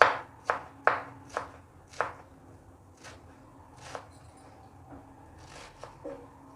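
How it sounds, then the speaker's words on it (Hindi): A knife chops vegetables for Lahori chana chaat on a board, several quick crisp cuts at first, then a few sparser, softer chops with pauses between them. "फिर इस साइड से पकड़ के इसको भी हम जी चॉप कर लेंगे"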